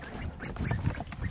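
Ducks on a small farm quack in a busy, overlapping chatter at moderate distance, with short calls scattered throughout.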